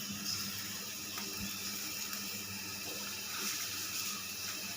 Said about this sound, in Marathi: मग त्याच्यात अजून पाणी ओतणार आहे।